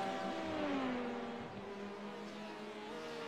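A Porsche race car slowing as it enters the pits, its engine note falling smoothly in pitch as it decelerates, heard at moderate distance over a steady background drone.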